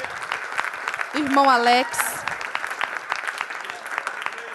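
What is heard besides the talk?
church congregation applause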